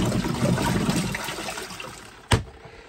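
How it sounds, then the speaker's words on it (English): Water rushes and gurgles steadily, then tapers off, ending with a sharp knock or clunk near the end. "Now when that water comes out, it's gonna be dirty"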